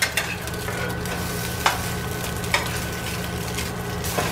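Salmon patties sizzle steadily in a hot pan, with a few sharp scrapes and taps from a spatula as they are turned over, close and continuous with no talking.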